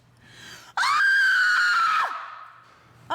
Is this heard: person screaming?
yes